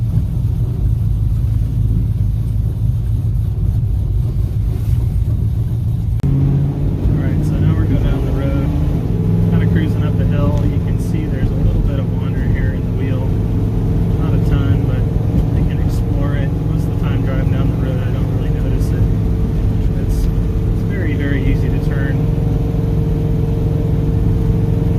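A car pulls out and drives on asphalt, its engine and road rumble forming a continuous, loud drone heard from inside the car, with the engine note lifting slightly as it gets moving.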